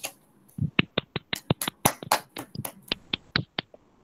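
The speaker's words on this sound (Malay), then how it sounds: "Mohon semua untuk memberi tepukan yang gemuruh kepada semua yang menjayakan Meraki 2021." At the evening ceremony of the Meraki 2021 international art show, a small group claps in sparse, distinct, sharp claps, roughly twenty separate hits scattered irregularly over a few seconds.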